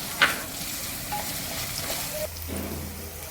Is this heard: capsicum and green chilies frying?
yes